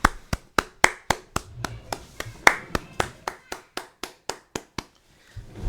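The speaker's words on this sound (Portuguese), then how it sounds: "Eu quero que vocês aplaudam comigo." A crowd claps in unison, a crisp, steady beat of about twenty sharp claps spaced evenly, loud and close, stopping briefly before one last clap.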